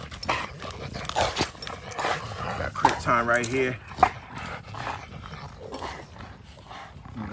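Dogs play and chew on a stick, giving small yips and whimpers amid scuffling and gnawing noises while someone talks over them.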